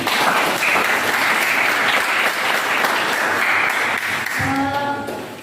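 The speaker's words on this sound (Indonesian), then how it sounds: "Kita berikan tepuk tangan." A class of high school students gives a round of applause, a dense, steady wash of clapping lasting several seconds before a voice briefly cuts in near the end.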